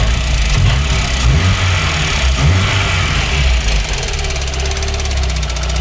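A tuned VAZ 2109 engine runs loud and close, a rough, rumbling mid-range drone with uneven knocking pulses that holds steady throughout.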